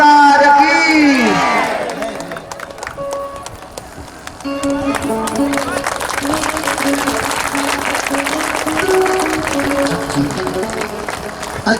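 An audience clapping at a Shrimad Bhagwat Katha religious gathering, a sustained crowd applause that swells and carries on, preceded by a brief sung or spoken voice.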